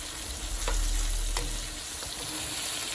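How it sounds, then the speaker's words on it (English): Shrimp sizzling in a hot pan with garlic, sweet pepper and onions: a steady, close hiss of frying with a few faint clicks of stirring, no voices. "see my shrimp frying up"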